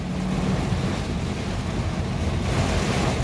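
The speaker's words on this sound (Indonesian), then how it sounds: "ini angin gede banget" Very strong storm wind roars steadily across a road near Tasikmalaya during bad weather, a dense, loud, continuous buffeting rush with no break and no talking.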